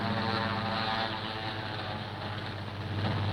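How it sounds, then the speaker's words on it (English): Roaring engines of a WWII-era propeller warplane on a strafing run, a steady, loud, droning rumble with dense low harmonics that holds without a break. "When they heard our engines roar, the troops ran for cover."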